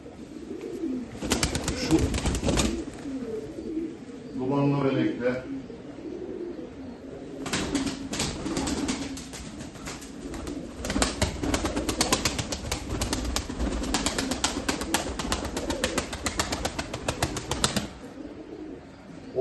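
Pigeons coo softly in a loft, including an active blue male, with bursts of loud wing flapping and rustling close by, separated by quieter gaps.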